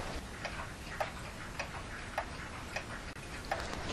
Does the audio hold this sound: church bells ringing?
no